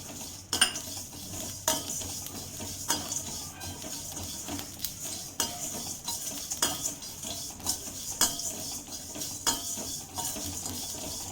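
Cumin, mustard and fenugreek seeds dry-roasted in a pan for chicken pickle masala, with a ladle tapping and scraping the metal at regular intervals over a faint background hiss, close and without speech.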